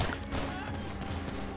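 Rapid automatic gunfire in GTA 5 during a role-play police shootout, a dense continuous burst of shots lasting throughout, fairly loud with game sounds and no clear speech over it.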